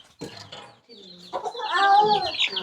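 A chicken clucks close by, a short run of calls that rise into a longer, louder drawn-out cackle near the end, with no talk over it.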